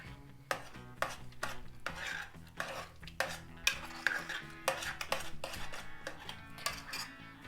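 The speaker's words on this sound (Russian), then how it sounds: "Добавляю 1 чайную ложку соли с горкой, пол чайной ложки перца черного молотого и все перемешиваю" Steady stirring and scraping of a utensil against a bowl of liver mince with salt and ground black pepper, with rhythmic clinks and wet thuds repeating close by, no talking.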